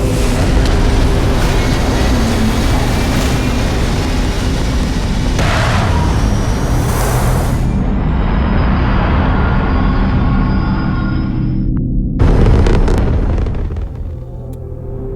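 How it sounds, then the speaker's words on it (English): Spaceship thrusters firing for lift-off in the game Starfield: a loud, steady rumbling roar with a rising whine, cutting out abruptly before a short burst of roar resumes and then settles lower. "To lift off when you are, Captain. All thrusters firing."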